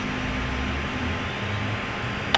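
Black Hawk helicopter turbine engine spooling up during start, a steady loud whine and rumble that holds without a break, with a brief sharp tick near the end.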